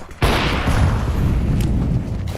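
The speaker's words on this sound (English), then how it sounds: "Grenade." A grenade detonates in Counter-Strike 2 with one sudden loud boom, followed by a long rumbling, crackling tail that fades slowly over two seconds.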